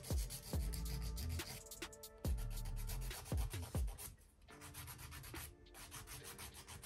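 An artificial nail tip being hand-sanded with a file, quick rasping back-and-forth strokes in short bursts, close and fairly quiet, with a few sharper scrapes between passes.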